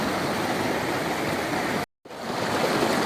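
Cold mountain creek water rushes loudly beneath a bridge, a steady broadband roar that drops out briefly to near silence before resuming at full strength.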